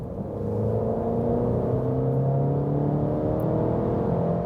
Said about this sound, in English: 60 kilometers an hour, first acceleration